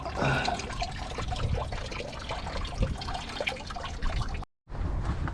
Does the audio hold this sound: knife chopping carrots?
no